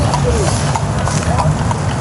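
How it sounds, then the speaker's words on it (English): Horse hooves clip-clopping at night in New York City's Central Park, a steady patter of several hooves mixed with street and park ambience, with people talking over it. "It's a lot of horses coming by here tonight."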